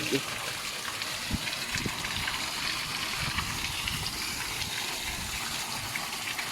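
Strong water rushes through a river spillway on the San Juan River, a loud, continuous broadband roar with a few low thumps near the start, filling the whole stretch.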